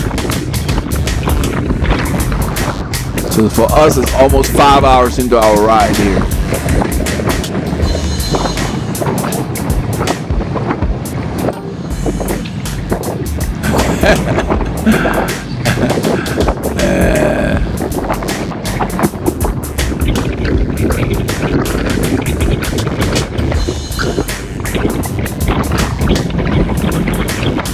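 Strong wind roars continuously into the microphone during a group road cycling ride at Lake Conroe, loud and buffeting throughout, with a rider talking over it.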